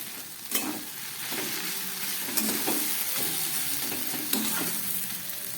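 Cabbage curry sizzles steadily in a pan on the stove while coriander leaves are stirred in, a continuous frying hiss broken by a few sharp scraping clinks of the spatula.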